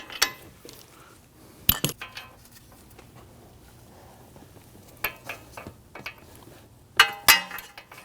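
Bolt being run in on a Ford Taurus front CV axle assembly, heard as intermittent close metallic clinks and ratchety taps of tool on bolt, scattered in short bursts with quiet gaps between.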